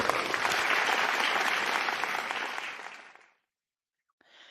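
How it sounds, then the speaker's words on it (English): Audience applause at an evening show, a dense sustained burst of many hands clapping that fades out after about three seconds, followed by silence and a faint trailing sound. "Big round of applause."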